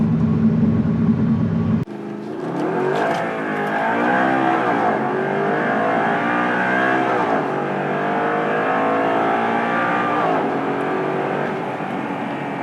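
A 2009 Audi R8 with a V8 engine accelerates hard, its rising engine note sweeping up through several gears with brief shift dips, loud and close throughout.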